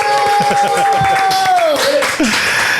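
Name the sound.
audience clapping at podcast opening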